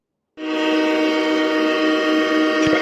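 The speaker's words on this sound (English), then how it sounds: "Let's go ahead and and hit that Bills train horn." A Buffalo Bills train horn sound effect blares abruptly after a moment of silence, a loud, sustained, chord-like blast holding steady for over two seconds.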